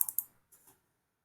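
Computer keyboard keys clicking, with an Enter press among them: a quick cluster of three close, light taps followed by a softer pair, then silence.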